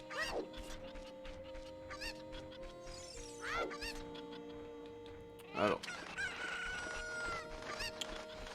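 Chicken and rooster cries, clucks and squawks in the video game Zelda: Ocarina of Time repeat over a steady musical background, with a brief spoken word partway through.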